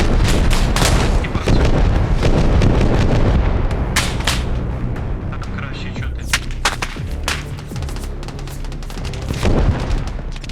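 Gunfire and explosions from the Arma Reforger military shooter during an assault on a factory: loud booms and rapid shots crack in clusters, some close and some distant, with someone speaking in between.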